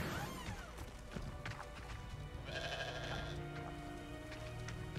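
A goat bleating inside the video game Hogwarts Legacy, a few quavering bleats near the start and middle over a steady bed of in-game ambience and faint knocks.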